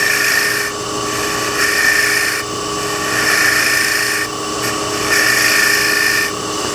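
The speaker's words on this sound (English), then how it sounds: "So I'm going to go in the center, this is end grain, and cut from the center out" A turning tool cuts into end grain on a spinning wood lathe, working from the center outward; a steady high scraping whine rises and falls in repeated passes as the cutter engages and eases off.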